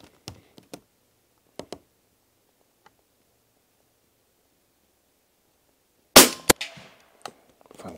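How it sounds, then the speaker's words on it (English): A suppressed World War II De Lisle carbine firing subsonic rounds at a long-range target gives two sharp, close muffled cracks in quick succession after near silence broken only by small clicks and handling noises. "We'll shoot into a longer distance so you get a real good idea of the subsonic nature of that bullet in flight."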